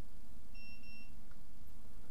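A Defiant electronic handleset lock beeps once, a short thin electronic tone heard close and clear against a quiet background hum.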